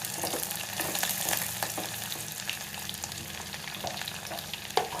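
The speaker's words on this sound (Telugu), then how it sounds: "పెట్టుకున్న ఉల్లిపాయ ముక్కలు, 2 పచ్చిమిరపకాయలు వేసుకొని కొంచెం వేయించుకోవాలి." Onion pieces and green chillies fry in a pan with a steady, close sizzle and occasional stirring scrapes, and nobody speaks.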